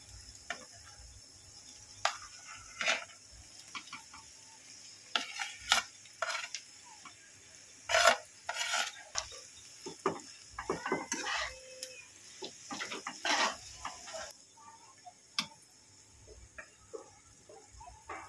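Grated potatoes tipped onto lightly browned onions in a pan for Bengali egg chops, with soft sizzling, scraping and stirring clatter in irregular bursts, fairly close and moderately loud, no talking.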